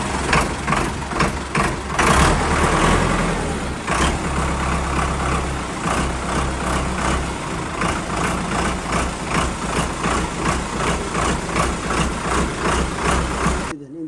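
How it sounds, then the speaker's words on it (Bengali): A 2024 Sonalika 60 tractor engine running at idle, a loud, steady low rumble with rhythmic knocking pulses throughout, close up and uninterrupted. "ইঞ্জিন সাউন্ড ঠিক আছে।"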